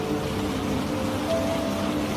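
Heavy night rain falls steadily on a forest road beside a roadside tea stall, a continuous dense wash of drops with no pauses or talk.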